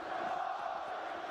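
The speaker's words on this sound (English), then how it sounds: "as the crowd getting louder and louder" Large esports arena crowd at the PGL Major 2022 CS:GO match between NAVI and Heroic, a steady loud roar of cheering voices filling the hall without pause.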